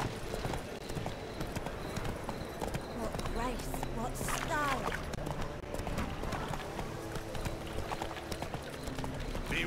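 Roach, a horse in The Witcher 3 video game, gallops with steady clip-clopping hooves running beneath game ambience, while someone talks over the sound.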